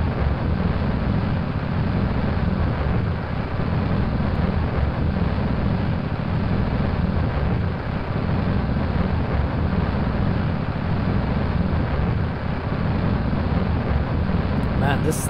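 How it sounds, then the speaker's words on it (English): Aircraft engines roar loudly during a climb, a constant heavy low rumble and broadband drone filling the cabin with no break. "This thing is really loud. I wonder if you can even properly hear me above these engines."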